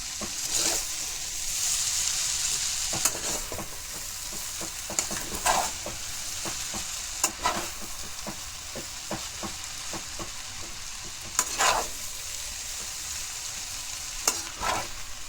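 Atta chowmein noodles stir-frying in a hot pan with salt and chaat masala: steady close sizzle with repeated sharp scrapes and clinks of a spatula against the pan, no talk.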